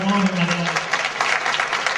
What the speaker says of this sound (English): Can we have a round of applause for Pauline and Montgomery, please?